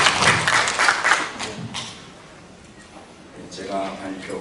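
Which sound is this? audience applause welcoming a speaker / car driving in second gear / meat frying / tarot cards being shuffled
audience applause welcoming a speaker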